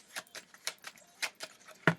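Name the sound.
shuffling tarot cards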